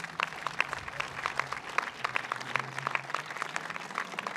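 Sustained applause from an event crowd at a Buffalo job training center, dense clapping with sharper individual claps poking through, steady and moderately loud throughout, with a faint low hum underneath.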